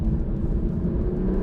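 A Porsche 911 Turbo S 992.2 with 711 hp runs on a drying race track, its engine a steady, loud, low droning rumble heard from close by for a brief stretch.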